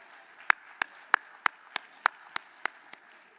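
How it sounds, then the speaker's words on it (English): An audience claps for a gospel choir at a Martin Luther King Jr. Day event at Clemson. About ten distinct, evenly spaced claps stand out over a quiet room with no talking. "about another round of applause for our gospel choir?"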